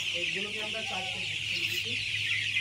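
Tiger-breed chicks and hens at a hatchery in Jessore clucking and peeping together in a busy cluster, with a steady high-pitched hiss running underneath throughout.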